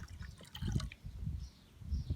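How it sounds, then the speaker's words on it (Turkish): Three glasses of water are poured onto sugar in a pot for syrup, in a few soft splashing bursts with brief pauses, quiet and close. "Daha sonra 3 su bardağı suyum var. Tencereme ekliyorum."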